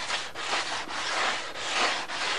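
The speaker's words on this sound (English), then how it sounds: "You don't have a whole lot to do sanding these joints out." Sandpaper rubs back and forth over glued joints on a model Spitfire, a steady close scratchy rasp broken by brief pauses between strokes.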